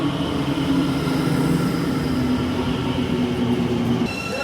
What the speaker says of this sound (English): Got to Farringdon just as the train to Gatwick Airport pulled up.